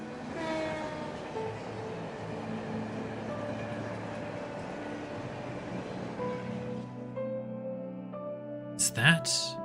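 A passing passenger train in a video game, the last one bound for Calvard at night: a long, steady rumble with harmonic rail whine under talk, fading out near the end and followed by a brief sharp clank.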